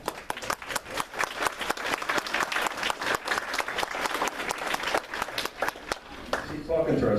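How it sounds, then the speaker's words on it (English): Audience at a county community meeting applauding, with dense, steady clapping from a modest crowd that lasts several seconds before tapering off as a voice begins. "Folks, let's give them a big round of applause."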